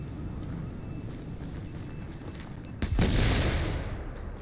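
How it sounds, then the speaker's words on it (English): A rifle in The Division fires a sharp burst of gunfire near the end, loud and close, cutting through a steady background of game ambience. "if I keep to like burst fire, it's a pretty fucking deadly gun"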